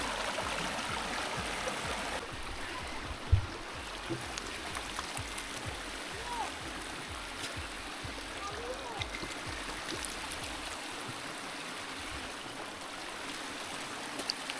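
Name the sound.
water flowing down a hill stream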